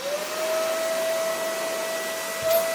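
A Hyundai HYVI2512 wet and dry vacuum runs in suction mode, giving a steady, loud motor whine with a constant high tone that holds throughout, close to the microphone.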